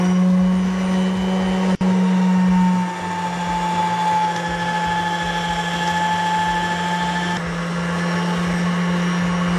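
An electric pasta machine on its first setting rolls egg dough for Italian tagliatelle, giving a loud, steady motor hum close by, with a sharp click near the start and no talking.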